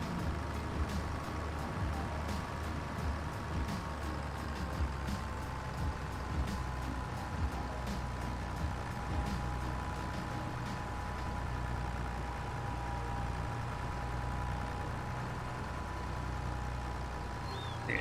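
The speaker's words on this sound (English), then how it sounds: "The sounds on this little tractor are amazing." Small tractor engine in Farming Simulator 22 on the Judith Plains map, a steady low idle-to-working drone running continuously throughout with a faint high whine and occasional light clicks, no talking.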